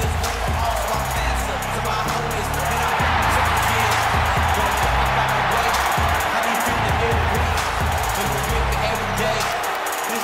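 Video game wrestling crowd in WWE 2K19 during a one-on-one match, a steady loud roar of cheering spectators filling the arena throughout with a commentator talking over it.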